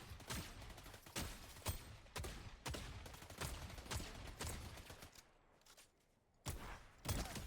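Shotgun fire in Fortnite, a dense run of loud close blasts in quick succession with a brief lull before more shots.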